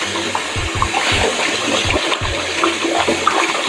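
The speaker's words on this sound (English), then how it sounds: "when draining rice, just rinse it out with cold water so it doesn't stick together" Cold running water pours steadily, with soft gushing and occasional low knocks and clatter as rice is stirred and rinsed beneath the stream.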